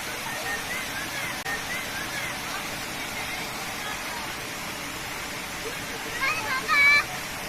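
A waterfall near Balkaya village in Vize, Kırklareli, gives a steady, even rush of falling water, with a brief voice heard near the end.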